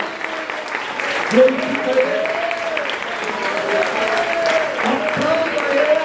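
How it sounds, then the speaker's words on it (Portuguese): Congregation applause for God fills a Portuguese-language family church service as a steady wash of clapping, heard under a preacher's raised voice that carries over it throughout. "Dê uma salva de palmas para o Deus Todo-Poderoso."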